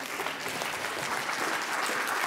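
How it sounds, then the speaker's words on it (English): Close, steady applause from a gathered audience at a talk, a brief burst of dense clapping that holds at even strength. "Round of applause for you all."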